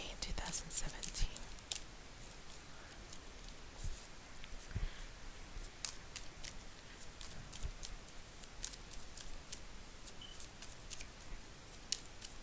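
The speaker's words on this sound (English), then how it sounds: "Okay, this is going to be my last shuffle." Tarot cards being shuffled for a reading, a run of crisp riffling snaps and soft flutters repeating irregularly up close, with quiet whispery breaths between them.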